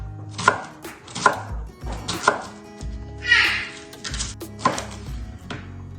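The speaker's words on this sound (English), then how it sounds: "we're gonna cut the onion. We're gonna make nice slices here" A knife chops through an onion on a cutting board, cutting slices while grilling burgers. About six crisp, evenly spaced strokes land close by, with a short scraping sound midway.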